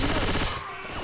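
Rapid gunfire in a co-op zombie shooter game, a loud burst of quick shots that fades out in the second half, with a voice speaking faintly underneath.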